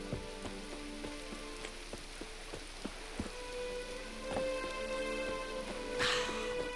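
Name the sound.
rain in video game The Witcher 3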